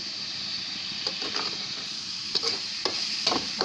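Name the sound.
vegetable greens frying and being stirred in pan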